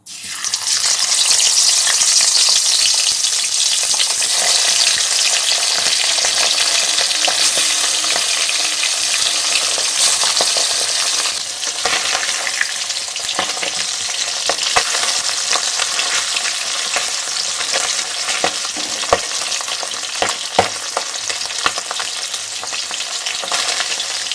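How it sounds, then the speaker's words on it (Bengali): Tangra fish frying in hot oil, a loud, continuous crackling sizzle with sharp spitting pops throughout, close up and without any voices. "এখন আমি ট্যাংরা মাছগুলো ভেজে নিচ্ছি"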